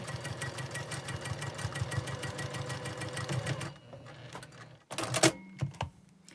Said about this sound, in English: now we're going to sew it together the correct way